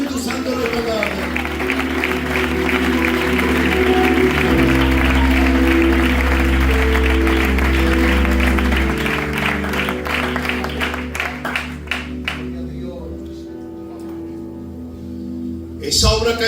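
A church congregation applauding during an evening service, sustained loud clapping with music and a crowd underneath that fades out toward the end.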